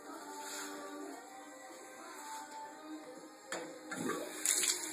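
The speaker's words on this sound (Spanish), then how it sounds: "Canillas abiertas." Open taps run during a test of a repaired gas water heater, a faint, steady trickle and rush of water with a few brief clunks and a slightly louder surge near the end.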